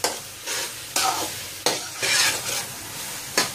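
Minced keema with yogurt is stir-fried in a pan, scraping stirring strokes in quick bursts over a soft, steady sizzle.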